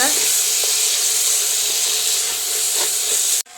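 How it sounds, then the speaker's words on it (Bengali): Whole masoor lentils stirred and frying in a pan give a loud, even hiss with a few faint scrapes, cutting off abruptly near the end. "মসুরগুলো সব দেওয়া হয়ে গেছে, এবার আমি নেড়ে চেড়ে ভেজে নেবো"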